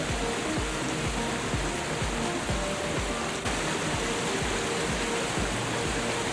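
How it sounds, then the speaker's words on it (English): Changey Falls, a waterfall surging through a valley near Kalimpong, gives a steady, loud broadband roar of rushing water that holds constant and continuous throughout, with no voices. "Changi Fall is one of the wonders of nature surging amidst valley of Kalimpong"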